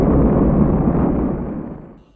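A deep, roaring explosion effect for matter-antimatter annihilation booms loud and full at once, then rumbles and fades away over about two seconds, with no voices.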